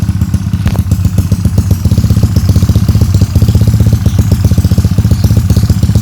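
A Yamaha Mio Sporty motorcycle engine idles close by, a loud, steady rapid putter that holds an even rhythm throughout with no talking.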